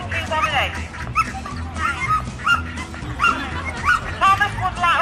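A sheepdog herding ducks at a town festival yaps and whimpers in short, repeated bursts close by, with people talking over it throughout.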